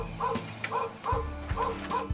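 Recorded dog barks from a lighted, rotating VRA reinforcer toy, a rapid series of about five short electronic yips and barks in an even rhythm, close and clear.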